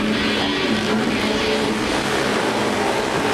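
Motorcycles racing on an ice track at the Beloit WinterFest in Wisconsin, a loud continuous roar of engines that holds steady throughout, with no pauses and no voices on top.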